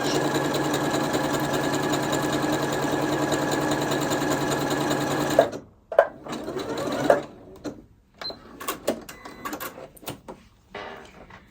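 Janome Horizon Memory Craft 8200 QC sewing machine stitching fabric, a steady loud mechanical whir for about five seconds that stops abruptly, followed by scattered clicks, fabric handling and light handling noises.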